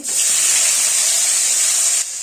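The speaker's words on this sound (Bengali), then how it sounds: "এখন পনিরগুলোকেও ভেজে নিচ্ছি" Paneer pieces fry in hot oil with a bright, loud, continuous hiss that holds steady and then drops a little near the end of a short burst.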